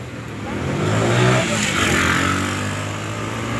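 A car passes close by on a large city avenue in San Borja, its engine rising to a loud swell and easing off again over continuous traffic hum.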